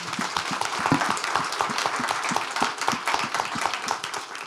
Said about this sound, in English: You can get a round of applause, please.